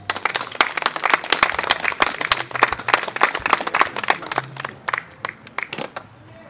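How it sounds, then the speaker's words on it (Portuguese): Scattered audience clapping at an outdoor mosaic unveiling in Otrobanda, distinct individual claps in an uneven rhythm that thin out toward the end. "um forte aplauso"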